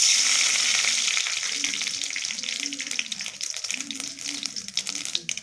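Mustard seeds splutter in hot oil while tempering bitter gourd tamarind kuzhambu, a bright crackling sizzle that starts loud and slowly fades, with a soft voice murmuring underneath.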